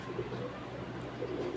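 Pigeons from a club loft, a pair of original Jira birds, coo softly in a low, steady murmur close by, with faint background noise and no clear talk.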